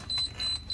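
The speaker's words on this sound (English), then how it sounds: "immediately says that the loop is no longer continuous and beeps like crazy" A pet fence fault-finding device detecting a break in the wire loop gives a high electronic beep three times in quick succession, short regular pulses with faint background noise.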